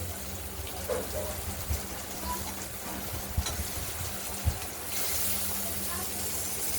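Bitter gourd cut into rounds frying in mustard oil, a continuous hissing sizzle with a few soft pops and clinks, running steadily throughout.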